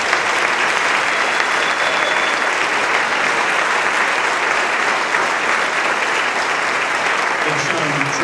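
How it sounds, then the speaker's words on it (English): Steady, full applause from an audience at a school band concert, sustained and dense throughout with no talking over it. "Let's give them a nice round of applause."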